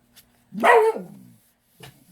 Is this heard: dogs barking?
yes